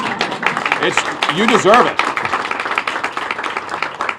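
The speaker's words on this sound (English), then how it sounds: "you can clap for that" An audience at a live event with a senator about RECA expansion breaks into a few seconds of scattered clapping, mixed under a man's ongoing speech and a brief voice close to the microphone.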